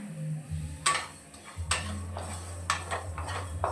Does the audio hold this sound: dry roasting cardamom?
yes